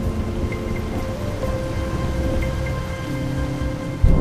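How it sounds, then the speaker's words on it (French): Rain falls steadily in the open with a broad, continuous hiss and low rumble and a few faint scattered tones, with no voices. "l'eau de pluie qui tombe et qui s'infiltre"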